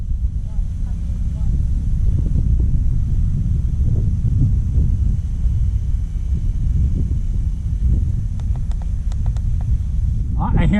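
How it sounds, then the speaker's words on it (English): Heavy wind buffets the microphone at a model plane flying field with a constant low rumble and roar, steady throughout, with a brief voice near the end. "It's pretty windy."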